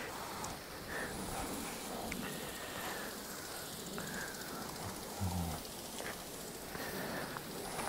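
Irrigation water sprays steadily onto two-year-old grapevines on a farm in Australia, a continuous hiss and patter that runs evenly throughout with no talk.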